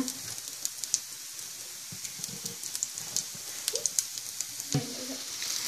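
Potato cutlets coated in bread crumbs shallow-frying in oil in a pan, giving a steady soft sizzle with scattered small crackles and pops throughout.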